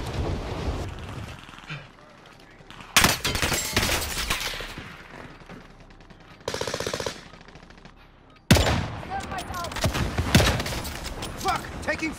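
Gunfire in the Warzone video game, including MP40 submachine gun fire: loud rapid automatic bursts and sharp shots that come and go among wind and engine noise, with game voices calling out.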